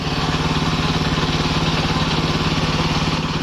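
A used Japanese walk-behind tiller's small engine running smoothly at idle, a close, steady, even chugging throb with no talk over it.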